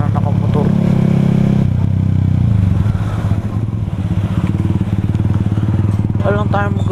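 A motorcycle ride heard up close, with a steady throbbing engine under wind noise and rising revs at times while the rider talks over it.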